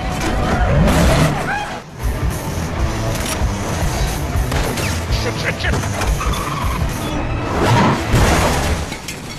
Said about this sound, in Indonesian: Akhirnya mobil Buddy pun terjatuh